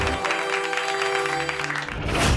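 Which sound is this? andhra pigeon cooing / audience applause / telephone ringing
audience applause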